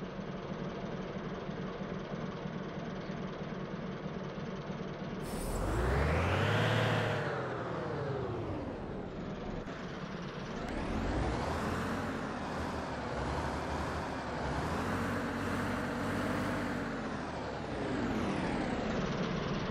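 An Ikarus 263 bus engine in the OMSI bus simulator game drones steadily, its pitch rising and falling as it revs up and eases off several times, loud and continuous with no voices.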